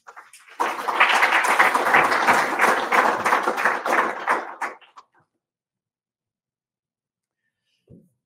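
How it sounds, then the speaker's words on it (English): Audience applause welcoming ministers at a conference stage, a few claps building into about four seconds of dense clapping that stops abruptly, followed by near silence. "please join me in a round of applause to welcome both ministers"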